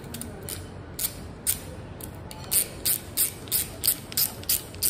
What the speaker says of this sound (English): All you need is just a screwdriver and you just screw it out.